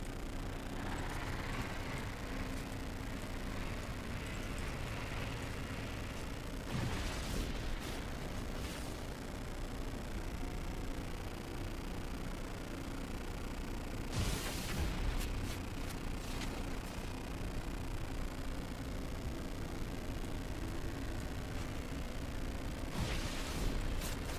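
Grenades go off in No Man's Sky, giving a few heavy booming blasts spaced several seconds apart over a constant low rumble of exploration ambience.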